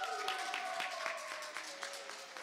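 Audience in a church hall clapping at a Sunday school sword drill competition, a brief burst of scattered applause with distinct claps that gradually thins out, heard over a faint tonal background.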